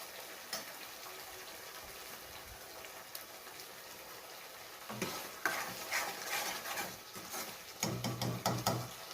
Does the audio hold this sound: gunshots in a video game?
no